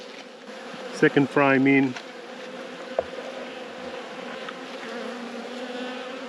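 Honey bees hum steadily at a hive during a late-season inspection of an abandoned colony, a low continuous drone running throughout while a person speaks briefly near the start.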